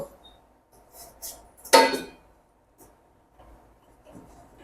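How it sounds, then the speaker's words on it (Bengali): A metal lid clanks down onto a pot of simmering native chicken cooked with light spices, giving one sharp clattering hit after a few faint clinks, with quiet kitchen sounds around it. "এবার ঢাকা দিয়ে দেব"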